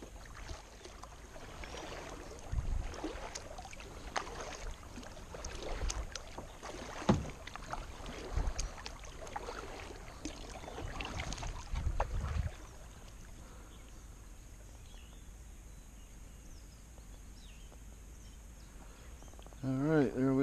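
A Sundolphin kayak is paddled on Prettyboy Reservoir, with rhythmic close paddle strokes and water splashes for about twelve seconds, then quieter drifting with light wind noise.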